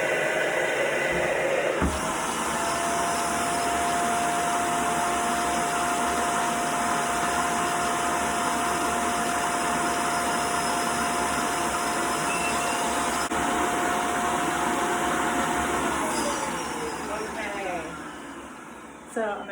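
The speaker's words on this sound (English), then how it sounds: "So I'm gonna turn on the vacuum, and then we're gonna make a mold." The vacuum motor of a We R Memory Keepers mold press roars with a steady loud rush of air and a constant whine, then winds down near the end.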